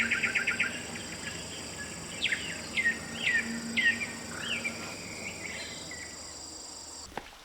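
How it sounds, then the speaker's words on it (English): Birds sing in a northern Vietnam mountain forest, several short chirping phrases repeating over the first five seconds against a steady high insect drone, fairly distant and soft. "the only sounds I hear are birds singing, the wind rustling through the trees, and the gentle flow of a nearby stream."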